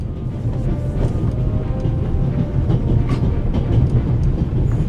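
A train rolls along the rails with a loud, continuous rumble and periodic clicking of wheels over track joints, close and steady.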